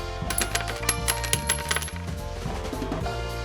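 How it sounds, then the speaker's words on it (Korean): Coins drop in a sound effect: a busy run of bright metallic clinks and jingles, close and continuous, over a low, steady background. "동전을 주운 니플러입니다."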